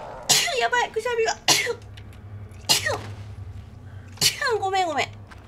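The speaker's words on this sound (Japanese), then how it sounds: "やばい、くしゃみが。" A woman playing the horror game Resident Evil Revelations 2 sneezes several times in sharp, close, loud bursts spread across a few seconds, with short gasps and breaths between them.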